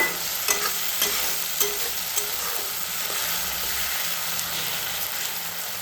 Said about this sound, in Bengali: এটাকে পছন্দ মতন ভেজে নিতে হবে মশলাটাকে